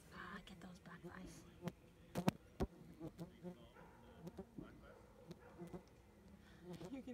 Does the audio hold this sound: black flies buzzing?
yes